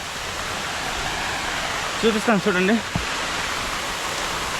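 Broadband roar of the Katiki waterfall in Araku valley, steady and close, with a brief burst of talk partway through and the rushing water carrying on alone around it.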